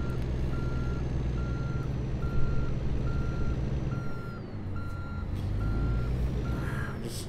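Truck in American Truck Simulator backing up to a trailer, its reversing alarm beeping in an even, steady rhythm over a low diesel engine rumble that shifts pitch midway.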